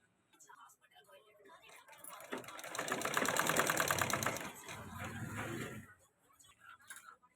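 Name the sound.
sewing machine stitching a baby's cloth nappy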